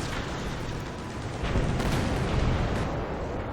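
Tank cannon fire in the War Thunder video game with Boris' sound mod: a dense, sustained booming rumble that swells louder midway and lingers with a rolling tail, heard alone.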